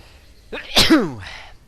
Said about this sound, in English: I'm just full of sneezes today